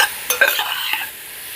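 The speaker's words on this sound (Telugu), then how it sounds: "ఇప్పుడు ఇందులో మనం ముందుగానే ఉడికించి పెట్టుకున్న ఈ బీట్రూట్ని వేసుకుందాం" Boiled beetroot is tipped and stirred into a sizzling tempering in a pan, a few close spoon scrapes and soft thuds over a continuous hiss that settles toward the end.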